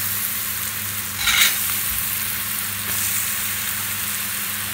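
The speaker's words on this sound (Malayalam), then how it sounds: "എന്നിട്ട് നമുക്ക് നല്ല തിളച്ച എണ്ണയിലേക്ക് നമ്മുടെ മിക്സ് ചെയ്ത് വെച്ച പൊട്ടാറ്റോ ഇട്ട് കൊടുക്കാം." Mixed potato sticks for French fries drop into boiling oil and fry with a loud, continuous close sizzle, and a brief swell of bubbling occurs as they are moved around.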